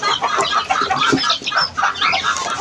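Chickens clucking steadily, several birds overlapping in a busy, close chorus with no talking.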